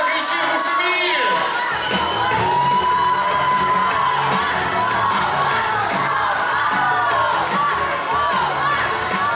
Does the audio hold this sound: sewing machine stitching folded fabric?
no